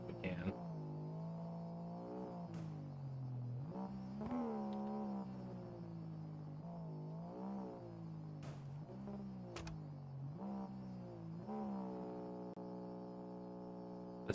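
A video game car engine revving with a rubber chicken stuck on the exhaust, giving a wavering, squealing tonal whine that rises and falls repeatedly over a steady hum, fairly faint.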